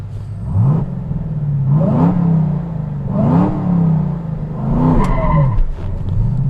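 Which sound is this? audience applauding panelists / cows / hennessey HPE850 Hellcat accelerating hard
hennessey HPE850 Hellcat accelerating hard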